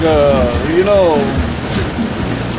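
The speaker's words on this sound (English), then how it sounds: "it's hard rain for me. For them it's nothing, small rain." Heavy rain falling in Leticia in the Amazon, a dense steady hiss of downpour close by, with a voice talking over it briefly.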